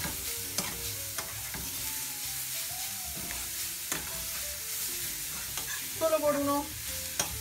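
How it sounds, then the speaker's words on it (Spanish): Chopped ingredients for lentil burgers sauté in a pan under steady stirring, with a soft continuous sizzle and scraping utensil taps. A voice briefly speaks near the end. "picado, y seguimos sofriendo"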